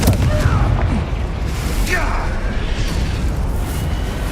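A Confringo fire-blast spell explodes in the video game Hogwarts Legacy, giving a booming burst within steady loud combat noise, with a voice speaking over it.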